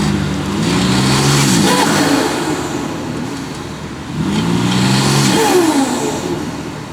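Car engine revved twice with a new intake but the stock exhaust, each blip rising and falling in a loud, close burst with a short dip between.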